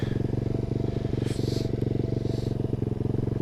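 An SSR125 pit bike engine idles close by with a steady, rapid single-cylinder chug, loud and even throughout.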